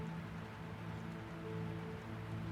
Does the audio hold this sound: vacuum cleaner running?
no